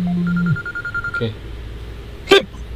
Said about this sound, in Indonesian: kita dapet telepon guys